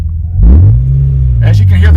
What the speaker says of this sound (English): As you can hear the car.